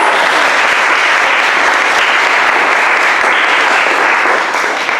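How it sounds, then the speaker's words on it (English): Sustained applause from an indoor audience at a 2019 showcase event fills the room, dense and steady clapping at full volume for several seconds before easing slightly at the end. "We have Brennan, so let's give him a round of applause."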